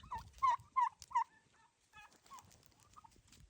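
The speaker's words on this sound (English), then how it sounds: "There's all the ducks enjoying life." Ducks on a farm call out in a quick run of four loud, raspy quacks near the start, followed by softer scattered calls and rustling close by.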